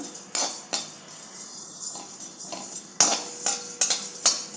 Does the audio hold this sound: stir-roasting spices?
yes